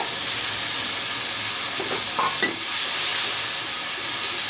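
Pieces of fish frying in a pan for a bottle gourd curry, giving a steady, close sizzle and hiss with a few faint stirring scrapes, no voices.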